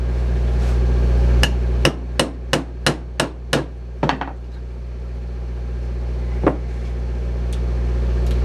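Sharp metallic strikes from an old hammer, about eight in a quick steady series, then a pause and one final knock, over a low steady hum.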